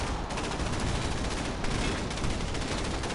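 Continuous rapid gunfire fills a Command & Conquer 3 Kane's Wrath battle, a dense unbroken rattle of automatic weapons heard loud and steady throughout with no voices.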